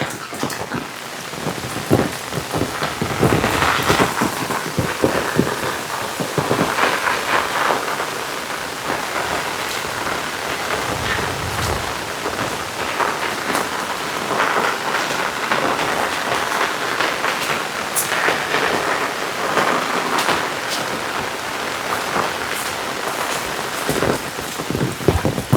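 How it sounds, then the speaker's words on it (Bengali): Heavy rain pours steadily over an open Eidgah prayer ground and pond area, a dense, loud hiss of drops on surfaces with faint rumbles of thunder in the background and no talk. "আজকে 2 দিন যাবত অনেক বৃষ্টি পড়তেছে"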